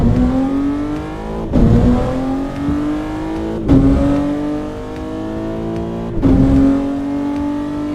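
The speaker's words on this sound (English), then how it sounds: "they recorded this in Chris's car" A car engine in a Volvo revs up repeatedly, pitch climbing steadily through each gear before dropping with a shift, loud and close, about four cycles, heard through a driving simulator.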